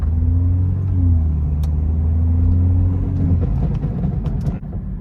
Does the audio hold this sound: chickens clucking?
no